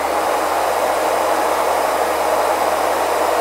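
A nail dust collector fan runs on its high setting, giving a steady, loud, broadband whoosh of moving air with no change or pauses.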